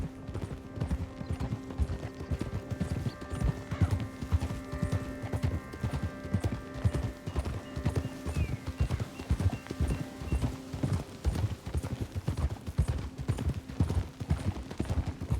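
Steady clip-clop of horse hooves in an even walking rhythm in the video game Red Dead Redemption 2, with a faint musical hum in the background and no talking.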